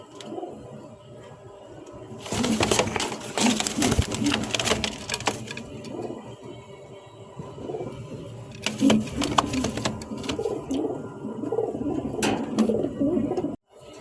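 Pigeons of the Maxi racer and Siraji breeds cooing and shuffling in a loft, with bursts of flapping and scratching over a continuous low murmur.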